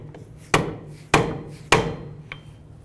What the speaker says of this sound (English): we're going to push our axle backwards through, but we're actually going to use another hammer